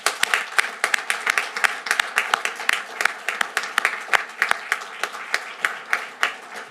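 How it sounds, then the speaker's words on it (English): Applause at a TriMet transit board of directors meeting: a small group around a table clapping steadily at close range, sharp overlapping claps with no voices on top. "So a big round of applause."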